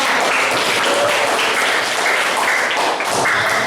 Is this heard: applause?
yes